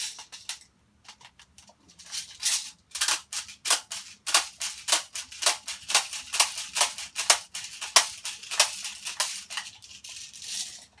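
GHK M4 gas blowback airsoft rifle firing a long string of sharp, close, snappy shots with metallic clacks, first a few sparse shots and then a rapid steady cadence.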